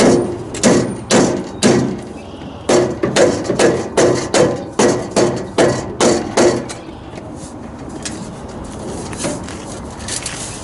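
A rubber hammer thuds against the turbo exhaust pipe of a 1997 Freightliner FLD with a Detroit 12.7 engine, delivering about a dozen heavy, rhythmic blows at close range before the knocking fades into quieter shop sounds.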